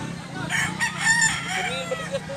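A rooster crows nearby in one drawn-out call amid farmyard background, with faint talk.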